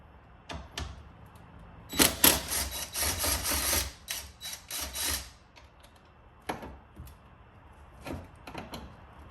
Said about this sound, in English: go ahead and take off these two 10mm bolts